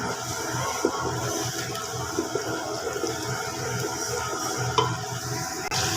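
Garlic, tomato and oil frying in a pan for a potato curry, giving a steady, broadband sizzle with a few small clicks and stirring knocks scattered through.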